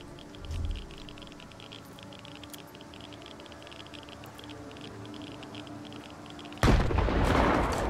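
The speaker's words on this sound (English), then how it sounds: "Throw a grenade in there." A grenade explosion in the Stalker 2: Heart of Chornobyl video game, a sudden loud burst near the end following several seconds of quiet ambient noise with faint ticks.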